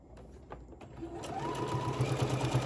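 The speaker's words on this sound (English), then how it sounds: "what I'm going to do is I'm going to sew from here to here on both sides" A sewing machine stitches fabric for 11-inch bowl koozies using 2.5 stitch length polyester thread. It gives a steady, close whirring hum that grows slightly louder and more even as the stitching runs.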